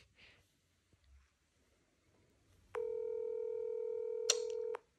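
A mobile phone places a call by voice command: after faint room noise, a steady electronic ringback or dialing tone with stacked harmonics sounds for about two seconds, clear and close, with a brief click near the end.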